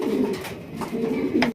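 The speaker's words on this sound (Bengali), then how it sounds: "বিশাল বড় সাইজের একজোড়া ট্যাগারওয়ালা কবুতর" A pair of large blue bar pigeons coos in short, low, throaty bursts close to the microphone, a brief loud burst of soft rolling calls.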